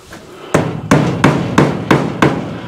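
Nails hammered into a hard polystyrene board for a screened patio, six loud, evenly spaced close thuds with a dull, heavy impact, no voices.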